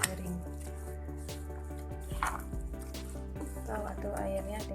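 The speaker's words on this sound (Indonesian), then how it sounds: "Aduk terus ini sampai airnya kering." Grated coconut cooked with palm sugar is stirred in a pan until the liquid dries, giving soft wet squishing and bubbling beneath steady background music, with a few scraping strokes.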